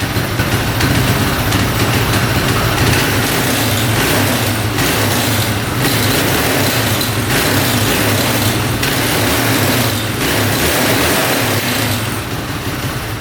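A street-legal dirt bike engine revving hard, a loud raspy buzz held high with brief dips between repeated revs, close by and continuous, no voices.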